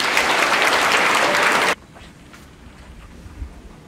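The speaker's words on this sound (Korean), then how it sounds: "박수로 여러분 환영해 주십시오." Audience applause at a commemorative ceremony marking an anniversary of the Donghak Peasant Revolution, a dense burst of clapping that stops abruptly partway through, leaving a quiet room.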